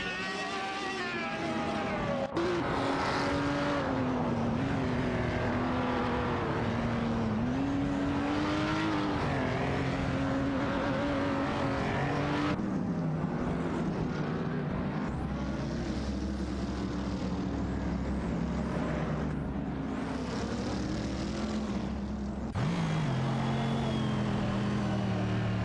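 Race cars in a racing video game, a Lamborghini Reventon among them, drone with steady engine tones that rise and fall as they jostle for position. The noise is loud and continuous, with no talk.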